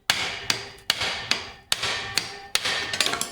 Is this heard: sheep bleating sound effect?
no